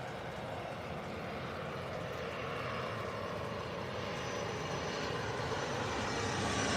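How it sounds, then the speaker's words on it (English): A Swiss Airbus A220 jet at Heathrow Airport gives a steady, loud engine roar that builds slightly over several seconds, broad and continuous with no voices. "So this is now an Airbus A220 from Swiss."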